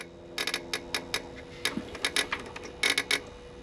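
A solenoid on a cold-idling G23BK boosted car engine ticks in quick irregular bursts of sharp metallic clicks, close up over a faint steady engine hum.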